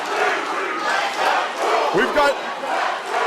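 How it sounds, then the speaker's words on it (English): Wrestling crowd at a steel cage match roars in loud, continuous duelling chants split between challenger and champion, a dense wall of voices with a brief clipped spoken phrase near the middle. "dueling crowd, challenger and champion"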